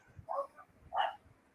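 A dog gives two short, faint barks or yips spaced about half a second apart, heard alone against quiet background.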